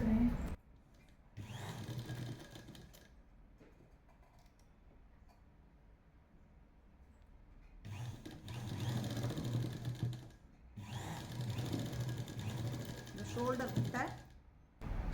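A sewing machine stitches a readymade top in two bursts of rapid, steady mechanical chattering, separated by a quiet pause, with a voice talking between and over the runs.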